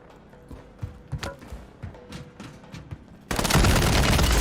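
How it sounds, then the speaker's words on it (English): A close, steady roar of LMG fire in a battle royale game's fight, following a stretch of scattered sharp shots and clatter, the burst suddenly swelling loud and dense. "I went in and I fucking shot him in the head with an LMG"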